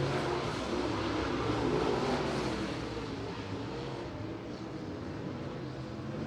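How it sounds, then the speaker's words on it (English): A late model race car roars around the top of turns three and four at Merritt Speedway, its engine a steady, dense drone that swells then eases slightly as it moves away, with no talk. "Bauer rips around the top of 3 and 4."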